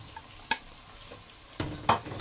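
Tomatoes and green chillies frying in a pan with a spice paste of coriander and cumin, a quiet sizzle broken by a few scraping stirs of the spoon, close up and without talk.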